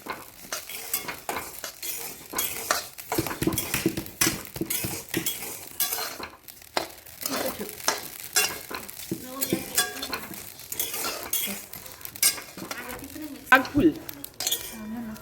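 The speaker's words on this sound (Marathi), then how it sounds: "ही आहे बडीशेप सुद्धा आपण भाजून घ्यायची आहे." Fennel seeds being dry-roasted in a pan for a homemade red chili chutney, stirred with a metal utensil that scrapes and clinks against the pan in quick, irregular strokes, with a faint sizzle underneath.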